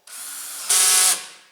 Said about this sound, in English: we're just going to drill a bunch of holes